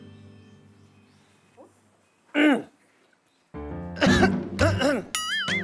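A person coughs and clears their throat indoors at a restaurant, with a few short harsh bursts separated by quiet and then voices talking over the end.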